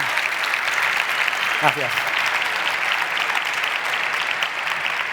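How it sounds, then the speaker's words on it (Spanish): Audience applause at the T3chFest 2023 tech conference closes a talk on hacking your career, with steady, dense clapping throughout. A voice speaks briefly over the applause. "Un aplauso"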